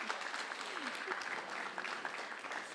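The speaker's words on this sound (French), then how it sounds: "Merci, ça mérite des applaudissements." Audience applause rewards a baroque hairstyle finished in very little time at a televised hairdressing trend event, a steady patter of clapping throughout at moderate level, with speech mixed in.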